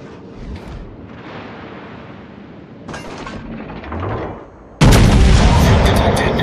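Artillery from a Slava battleship in World of Warships booms in heavy blasts, with scattered rumbling salvos that build to a loud, sustained roar near the end.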